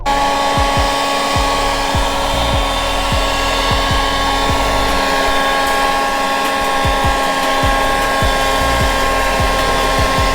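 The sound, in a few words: leaf blower drying a car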